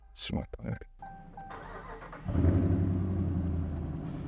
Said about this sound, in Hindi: तो अब इस गाड़ी को स्टार्ट करके देखते हैं